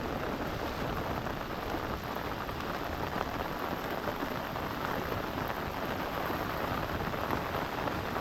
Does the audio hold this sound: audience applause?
no